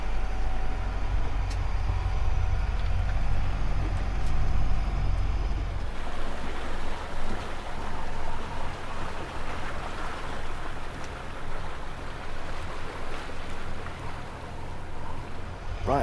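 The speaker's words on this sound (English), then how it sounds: "Doing some motor sailing for the first time on the trip." A 50-year-old sailing boat motor sailing off the Portuguese coast, its engine droning steadily and loud over wind and sea noise for the whole stretch, the low rumble easing after the first few seconds.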